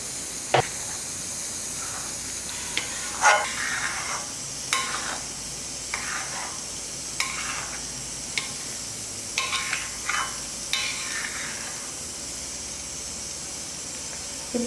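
Beaten eggs sizzle in a little oil in a pan, a continuous soft hiss of frying broken by scattered scrapes and stirs, close and fairly quiet, with no talk.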